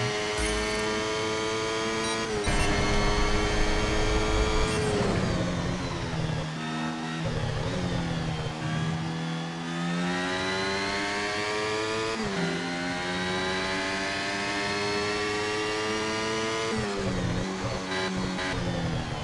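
An F1 car in the F1 Mobile Racing game screams through a qualifying lap, its high-pitched engine repeatedly revving up through gears and dropping on downshifts, loud and continuous without talk.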